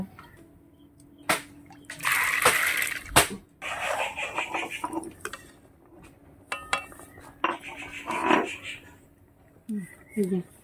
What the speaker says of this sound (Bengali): এইবার আমি জল দিয়ে দিচ্ছি, ডালটা একটু সিদ্ধ করে নেব।